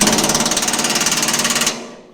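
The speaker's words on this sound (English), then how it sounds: "Just drilling a hole so we can put a cable tie in there." A cordless Ryobi power drill bores a small hole during a long-range fuel tank install on a Toyota Landcruiser 80, a loud steady whir with a rapid pulsing rhythm that stops abruptly and fades out.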